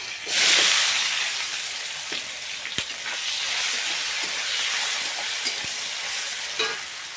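Chopped onion and two or three bay leaves drop into hot oil inside a rice cooker, setting off a loud, close burst of sizzling that settles into a steady hiss with occasional sharp pops and scrapes.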